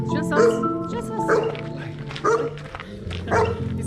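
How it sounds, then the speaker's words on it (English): A dog barks in short repeated bursts at an olive farm in Tuscany, fairly close, with people chatting over and between the barks. "Oh, there's a dog."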